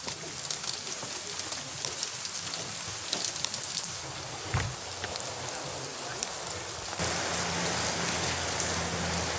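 Steady rain falls on surfaces outdoors, a dense hiss with scattered droplet ticks, while pigeons or doves coo faintly in the background; the rain grows slightly heavier near the end.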